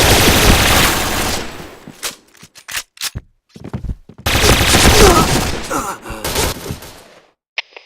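Rapid bursts of gunfire from the online shooter game Point Blank, loud, dense volleys at the start and again mid-clip, separated by sharp single shots and brief quiet gaps.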